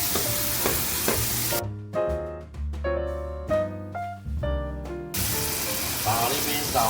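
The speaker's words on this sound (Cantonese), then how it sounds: "炸下呢邊，炸下嗰邊就好啦" Crispy rice noodles sizzle in hot oil with a steady hiss at the start and end, while a voice talks over the frying in the middle.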